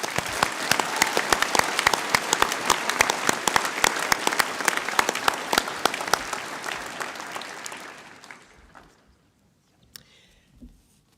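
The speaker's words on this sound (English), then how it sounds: "Let's give them a round of applause." An audience at a school prizegiving claps loudly and briskly, individual claps standing out, then the applause thins and fades to a few scattered claps near the end.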